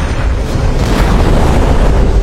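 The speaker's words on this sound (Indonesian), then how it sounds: "Di mana jet pribadi Reddington meledak dan jatuh di suatu lokasi" A private jet explodes in the TV series The Blacklist, a loud, sustained roaring blast with dense low rumble that fills the whole moment without pause.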